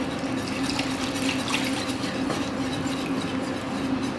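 Milk being whisked into a thickening sauce in a pan on medium-low heat gives a continuous wet, swishing churn close by, steady throughout with a faint underlying hum.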